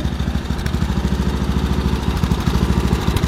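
An MTD garden tractor engine with past cylinder head trouble runs steadily up close, a loud, fast, even putter with a regular rhythm and no talking.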